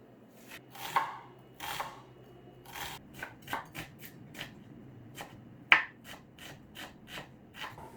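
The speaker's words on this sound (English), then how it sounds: "Start by chopping 2 small onions." A knife chops shallots steadily on a cutting board, crisp irregular taps with short pauses, close and fairly quiet.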